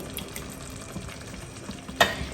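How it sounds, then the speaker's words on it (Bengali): Coconut milk poured into a simmering pan and stirred, a soft continuous bubbling sizzle close by, ending in a sharp scrape or splash near the end, without voices. "এইবারে আমি এতে নারকেলের দুধটাও দিয়ে দেবো"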